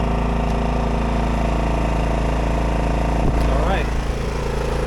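A Champion inverter generator engine runs steadily at close range, a constant low drone that holds throughout, with a brief clunk of handling partway through.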